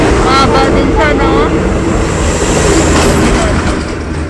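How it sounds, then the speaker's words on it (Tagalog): Train on the PNR (Philippine National Railway) line in Taguig rumbling past close by, a steady loud roar with wind buffeting the microphone and people talking over it throughout. "May train. Nag-train. National Railway. Train."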